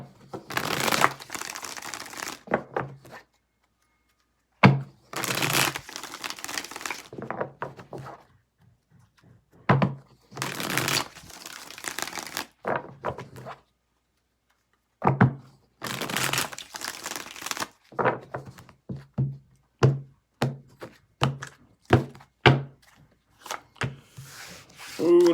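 Tarot cards shuffled by hand in repeated bursts of riffling and rubbing, close and fairly loud, separated by short pauses, with no talk over them.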